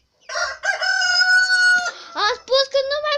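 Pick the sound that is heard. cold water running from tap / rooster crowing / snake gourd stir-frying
rooster crowing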